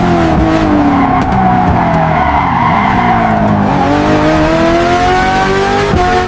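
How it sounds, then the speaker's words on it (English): AI-generated hypercar tearing along a narrow cliffside mountain road, with sustained loud engine roar that rises and falls through acceleration, hard braking and tight corners, tire squeal mixed in, continuous and close throughout. "first-person view from inside a high-performance hypercar flying through an extremely narrow mountain road with brutal acceleration, hard braking, tight cliffside corners"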